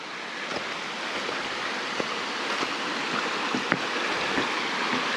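A creek runs steadily along a hiking trail, a constant close rushing of water with faint splashes and clicks.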